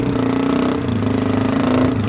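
A lightweight adventure motorcycle engine drones steadily at close range with a strong, even tone and a slight dip partway through, with no talking.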